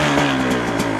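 A 2025 Beta 200 RR X-Pro two-stroke dirt bike engine running just after starting, a loud, close, buzzy idle with quick rhythmic pulsing throughout the brief moment.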